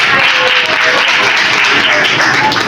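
Congregation at a church meeting in Lahore claps loudly and steadily, a dense, continuous wash of hands filling the short stretch.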